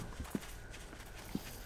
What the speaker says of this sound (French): j'entends des bruits de pas partout, là